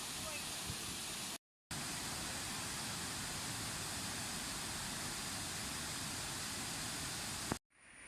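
Athirappilly waterfall pours in a steady, loud broadband roar of rushing water that fills the whole stretch, broken only by one brief cut to silence.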